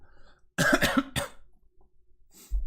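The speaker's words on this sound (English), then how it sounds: "I have chronic sinusitis. Sadly, that means I cough a lot." Several harsh coughs from a person with chronic sinusitis, a quick burst of three or four close together followed by a single cough, then a short throat-clearing sound near the end, loud and close with no talking.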